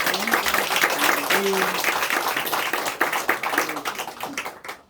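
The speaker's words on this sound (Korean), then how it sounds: "우리 박수 한번 하겠습니다" Applause from a church congregation welcoming back a pastor during Sunday morning worship, steady busy clapping across the whole stretch with voices mixed in.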